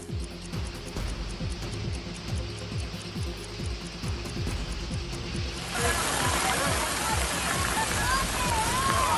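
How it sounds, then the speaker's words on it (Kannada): Heavy rain with hail in Kodaikanal starts as a quieter background, then swells into a loud, dense, rushing downpour that continues to the end. "ಕೊಡೈಕೆನಾಲ್ನಲ್ಲಿ ಆಲಿಕಲ್ಲು ಸಹಿತ ಭಾರಿ ಮಳೆಯಾಗ್ತಾ ಇದ್ದು"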